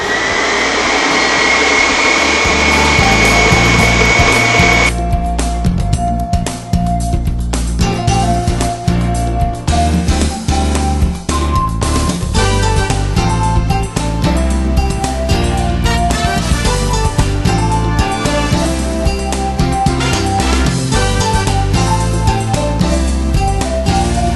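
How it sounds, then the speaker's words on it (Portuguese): A stand mixer beats chocolate mousse, starting with a brief steady whir, then a loud rough motor grind with clinking and rattling that runs on continuously. "Agora eu coloco aqui na nossa batedeira todo esse processo e ligo ela."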